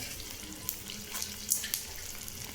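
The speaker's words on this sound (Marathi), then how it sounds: "आता आपण थोडं थोडं करून डिंक तळून घेऊ" Edible gum (dink) fries in oil for winter dry-fruit laddoos, a soft, watery crackling sizzle with scattered pops and a few louder bursts near the middle, quiet and without voices.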